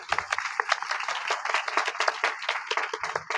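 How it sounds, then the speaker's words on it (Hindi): A church congregation claps hands together during a Hindi-language sermon, a dense, continuous patter of many hands filling the whole stretch, loud and close, with no talk over it. "प्रभु की महिमा हो, ताली बजाइए।"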